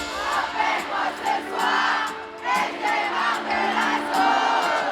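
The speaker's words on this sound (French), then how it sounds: "Les applaudissements et les cris résonnent." Festival crowd at a rap concert cheering and shouting in rolling waves, a dense wall of voices rising and falling continuously, with no clear individual claps standing out.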